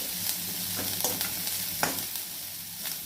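Asafoetida and onion sautéing in a pan for a mango sambar and carrot poriyal meal, a continuous close sizzle broken by several sharp scrapes and clicks of a spoon stirring against the metal.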